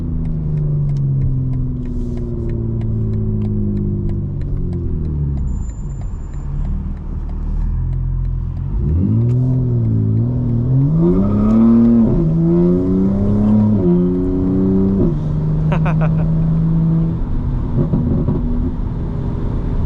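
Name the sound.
BMW M4 Competition xDrive engine revving while driving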